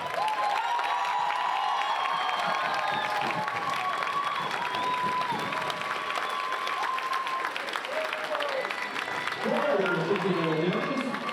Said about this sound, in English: give Bob a big round of applause